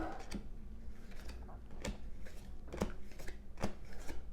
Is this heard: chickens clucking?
no